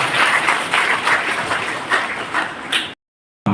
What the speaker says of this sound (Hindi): तो एक बार सभी अपने गुरुजनों को नमन करते हुए ताली बजाएं